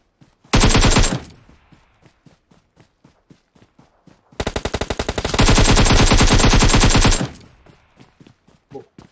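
Automatic gunfire from shooting an enemy in a video game, two loud sustained bursts of rapid shots separated by sparse single clicks and taps, close and dominant.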